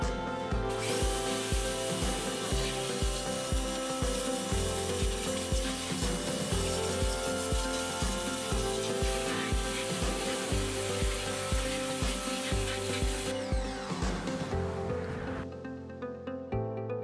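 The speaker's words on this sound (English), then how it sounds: "I blasted most of it off with my pressure sprayer, and then finished it up with my sandblaster" Pressure sprayer and sandblaster stripping the ceramic shell from a lost-PLA metal casting, a loud, steady hissing blast with a rapid pulsing rhythm running throughout, tapering off at the end.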